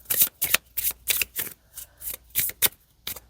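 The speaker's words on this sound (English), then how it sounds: "And then the remainder cards are shuffled." A deck of oracle cards being shuffled by hand, a quick series of crisp riffling bursts in an even rhythm, close and fairly loud, with no talking.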